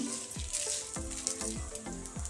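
Spices such as mustard seeds, cumin and coriander sizzle and fry in a pan for a wild jackfruit curry, a steady close crackling hiss with scattered small pops and no speech.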